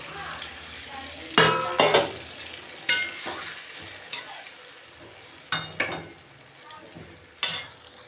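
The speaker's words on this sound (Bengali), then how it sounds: "এখন আমি জল দিয়ে দেব।" Snakehead fish masala sizzles in a pan as water is added, giving a steady frying hiss broken by several loud bursts of spatter and scraping spoon strokes, close up.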